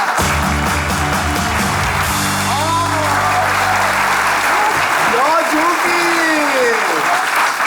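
A studio audience at a Turkish comedy sketch show applauds loudly and continuously as a guest walks on, with upbeat music and a voice carrying over the clapping.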